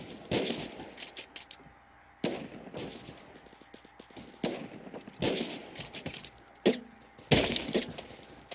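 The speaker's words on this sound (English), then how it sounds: "sniped by a submachine gun" Submachine gun fire in the Roblox shooter Phantom Forces, several rapid bursts separated by short pauses, crisp and close, with sharp cracking impacts between the volleys.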